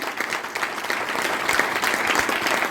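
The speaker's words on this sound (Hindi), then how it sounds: "एक बार ये अधिकारी जी के लिए जोरदार तालियां।" Audience at a sales training seminar applauding loudly for an official, a steady dense clapping that fills the room throughout without a break.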